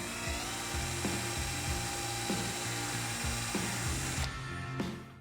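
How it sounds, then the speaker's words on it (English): A power drill on a golf shaft bench motor whirs steadily with repeating pulsing strokes, close and continuous, grinding through epoxy inside a golf club shaft. "I want to align the drill bit as straight as possible with the shaft and start to drill."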